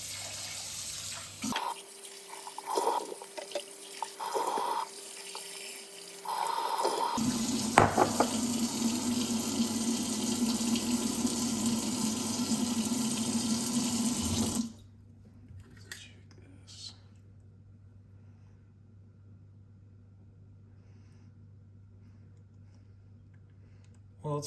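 Tap water runs into a kitchen sink to rinse venison steaks that were soaked in buttermilk, a steady broadband rush with interruptions and splashy shifts in flow, then quieter hiss and handling noise near the end.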